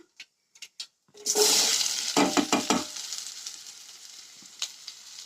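A few quiet clicks, then a sudden loud sizzle as curry leaves join onions in a hot pan, with quick stirring scrapes before the hiss gradually settles to a softer, steady fry.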